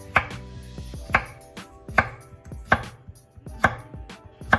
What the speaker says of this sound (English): I am going to slice these.